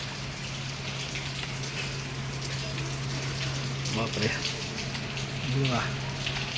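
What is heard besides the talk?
heavy monsoon rain in Mumbai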